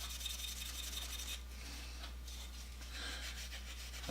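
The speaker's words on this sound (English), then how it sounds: "I like to take a little bit of triple-aught steel wool and go over the surface." Fine triple-aught steel wool rubbed over the dry, oiled wooden tote of an antique Stanley No. 8 plane, a steady close scratchy rasp with brief pauses and strokes continuing throughout, alone with no talk.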